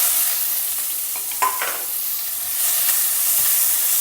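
Mustard seeds, green chilli, curry leaves and chopped onion stir-fried in a pan, giving a steady close sizzle and hiss with a brief scrape of stirring.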